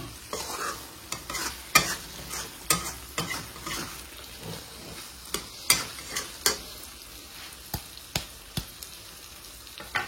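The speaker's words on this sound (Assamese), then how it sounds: "একদম ধুনীয়াকৈ ভাজিম।" Paneer and peas fry in a pan over medium gas with salt, stirred by a spatula in repeated sharp scrapes and clacks over a steady low sizzle, close and fairly loud, with no talking.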